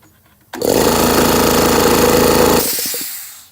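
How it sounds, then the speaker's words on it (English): An old air compressor's no-load start: a loud, steady mechanical clatter kicks in abruptly after a brief quiet moment, hammers on evenly for about two seconds, then cuts out and fades, with a few short knocks trailing at the end. "that sound afterwards is the no load start, because it just takes off all the pressure"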